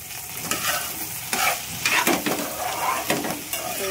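Vegetables fry loudly in a pan while being stirred, with a dense sizzle broken by repeated scraping strokes of the spoon about every half second, close and busy throughout.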